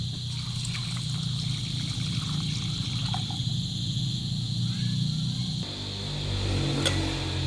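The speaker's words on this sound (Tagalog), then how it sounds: "Lagyan natin yung tubig." Water pours into a cooking pot of sinigang na galunggong in a steady, close trickle for several seconds, then the flow shifts to lower splashing, with faint talk in the background.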